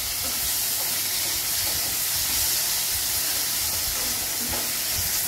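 Chopped tomatoes and onion sauté in a pan over a high gas flame for a spiced moth bean fry, giving a steady, close, loud hiss with no speech.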